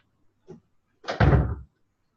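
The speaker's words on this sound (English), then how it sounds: "I'm going to actually close my door because my dryer's spinning" A room door is pushed shut against the noise of a spinning dryer: a faint knock, then one close, solid thump as it closes, followed by quiet.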